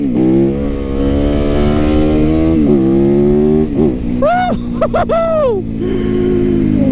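A 2019 Yamaha YZ450FX custom street-legal supermoto runs loud and close, with a steady idle that rises into several sharp throttle blips, the pitch jumping and falling back each time.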